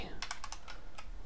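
Several quick keystrokes on a computer keyboard sound in a rapid cluster, then one more after a short gap, close over a faint room hum.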